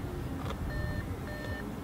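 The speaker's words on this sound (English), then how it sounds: "ignore the beeping" Two short electronic beeps, each held for about a third of a second, sound over a steady low engine rumble from an Audi A5 as its folding wing mirror is switched.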